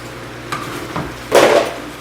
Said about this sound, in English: Of course, we're going to stir, stir, stir.